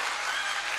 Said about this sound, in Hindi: एक मरतबा जोरदार तालियां बजा दे उनके लिए।